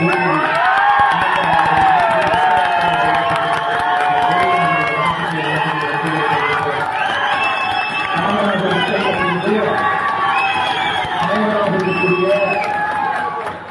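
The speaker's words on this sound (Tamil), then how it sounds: "அண்ணன் பேர் சொன்னாலே எல்லாருமே ரொம்ப கரகோஷம்" A large hall crowd at a Tamil political rally cheers and shouts loudly. The roar is sustained and dense throughout, with whoops and overlapping voices.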